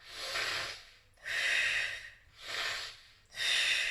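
Deep abdominal breaths taken close to the microphone during a singing warm-up come as four strong, airy, hissing breaths, inhales and exhales alternating in an even rhythm with short quiet gaps between them.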